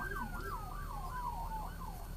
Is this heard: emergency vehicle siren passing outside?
yes